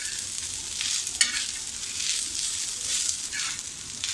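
Coconut stir-fried in a pan until golden for a Marathi potato and pea curry, a steady sizzle with scraping stirs and a few sharper utensil clinks, close and continuous with no talking.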